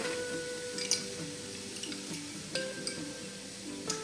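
Garlic, onion and bell pepper cooking in a pan, a faint sizzle under soft stirring with a few light clinks of a utensil against the pan.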